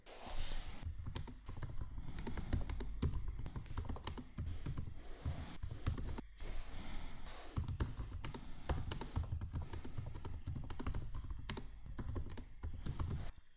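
Rapid typing on a computer keyboard, close and clear, with irregular bursts of clicking keys and brief pauses, alone without speech.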